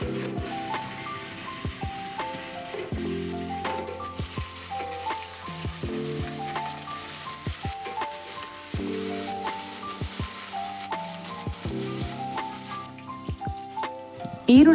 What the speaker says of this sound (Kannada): ಇವಾಗ ನಾನು ಈರುಳ್ಳಿ, ಕರಿಬೇವನ್ನು ಹಾಕಿ ಚೆನ್ನಾಗಿ ಫ್ರೈ ಮಾಡ್ತಾಯಿದ್ದೀನಿ